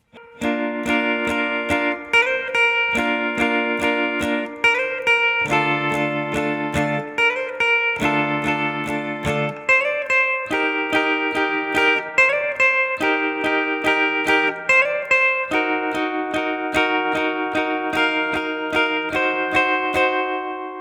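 Acoustic guitar strums a progression of sustained chords, each ringing out before the next change, played close and clear with no voice.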